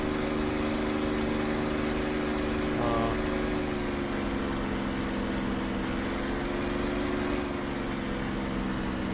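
P-51 aircraft engine running in the flight simulator DCS, a steady tonal drone held at constant pitch with a slight wavering near the end, continuous and fairly quiet, with a brief faint blip partway through.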